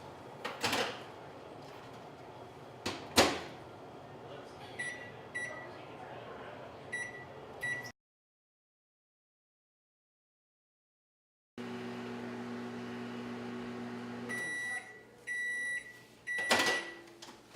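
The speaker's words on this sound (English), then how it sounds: "we're going to throw it in the microwave for about 3 minutes" A microwave oven hums steadily after door clunks and button beeps, then chimes several times when it stops, with more door and cabinet knocks around it.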